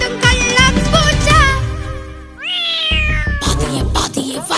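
A cat meows within a children's cartoon song, the meow rising in pitch over a brief musical backing, with sung vocals around it.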